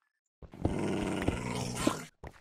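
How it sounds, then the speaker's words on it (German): Wolves in the Minecraft video game growl in a continuous, rumbling snarl lasting under two seconds, fairly close and alone, with a short extra growl at the end. "Deine Hunde knurren. hinter dir."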